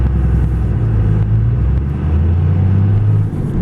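In second gear, a 2002 Dodge Ram 2500 Cummins diesel 4x4 with a six-speed manual accelerates, a loud low engine drone climbing in pitch, briefly dipping, then rising again, heard up close from the cab.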